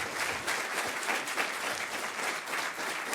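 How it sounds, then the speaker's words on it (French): A crowd applauds steadily throughout, a dense, even patter of many hands clapping. "Allez-y, applaudissez bien fort"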